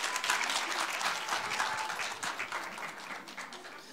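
An audience at a university forum applauds as the next presenter is introduced, giving a dense, steady burst of many hands clapping that fades slightly over four seconds.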